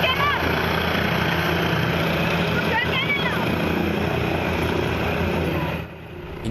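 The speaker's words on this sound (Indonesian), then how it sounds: "Inilah detik-detik helikopter yang membawa Kapolda Jawa Timur Irjen Pol Tony Harmanto beserta rombongannya mendarat darurat di lapangan Rejotangan, Kabupaten Tulung Agung, Jawa Timur pada Rab" Police helicopter making an emergency landing in a field, carrying the East Java regional police chief, a loud steady rotor and engine roar close by that eases slightly near the end, with a news voice over it.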